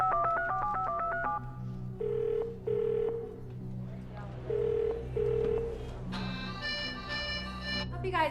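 A string of short electronic beeps like phone buttons being pressed as a telephone number is dialed, bursts spaced unevenly, with a steady hum and faint background sound throughout.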